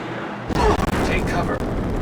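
Phaser fire shooting out vents in a Star Trek video game: a sudden loud burst of blasts and booming impacts starting halfway through, continuing as dense sci-fi gunfire under game voices.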